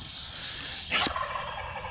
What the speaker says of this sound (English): He's probably gobbled,